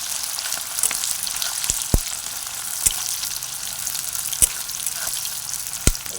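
Onions fry in oil until browned, making a steady, hissing sizzle close by, broken by a handful of sharp pops and taps spaced a second or so apart.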